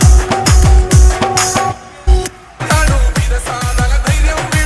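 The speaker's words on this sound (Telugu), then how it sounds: "మరొక్కసారి గట్టిగా చప్పట్లు కొట్టండమ్మా" An audience claps at a political rally, loud close bursts of applause that pause briefly midway and then resume strongly.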